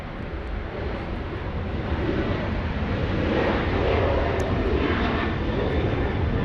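A WestJet jet airliner departs Los Angeles International Airport, its engine roar building steadily louder and broad over several seconds as it climbs away, with no talk over it.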